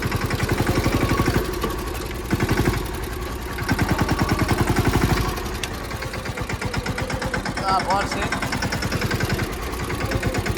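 A diesel tractor engine chugs in a steady, pulsing rhythm in a farm field, rising and falling in loudness, with a brief spoken remark partway through.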